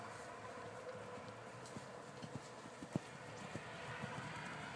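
A horse being ridden by a novice rider, its hooves clip-clopping in an uneven pattern of soft, mid-distance footfalls over steady outdoor background noise, with no talking.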